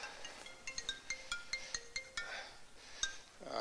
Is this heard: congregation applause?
no